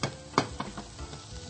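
Cooked rice, seasoned with granulated aji seasoning for a shrimp and pumpkin rice dish, is stirred and tossed in a pan, giving a few quiet scraping, sizzling strokes.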